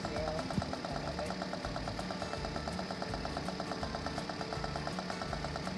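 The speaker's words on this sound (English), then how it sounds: "when your engine starts sounding like this, it's probably not long before it meets its maker." A failing car engine runs roughly in a steady, continuous drone with a fast repetitive knocking rattle throughout, moderately loud with no one speaking.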